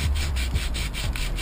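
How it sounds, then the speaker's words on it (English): Fine-grit sandpaper rubbed by hand over a kettlebell handle to knock down burrs, a steady back-and-forth scraping in even strokes, close and clear with no talking. "just go ahead and sand the handle down"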